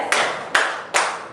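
Kindergarten children clap three sharp, unison hand claps in a classroom clapping exercise, evenly spaced with short room echo after each one.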